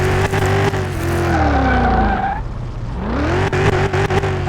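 Car engine whining as a vehicle brakes and skids in a driving game, tire squeal over a steady revving tone that dips and climbs back, loud and close.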